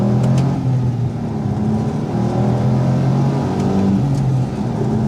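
A Smart car engine revs hard in manual mode during spirited driving, a loud, continuous droning hum that rises and falls slightly with throttle, alone with no talk.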